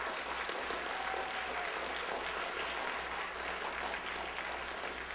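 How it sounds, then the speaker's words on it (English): Audience applause at a Black History program in a Delray Beach hall, a steady wash of many hands clapping at moderate level throughout, with no voices over it. "just give a round of applause."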